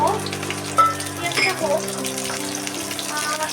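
Chopped onion hitting a hot pan and frying, a loud sizzle with stirring scrapes, while a steady tonal hum runs underneath.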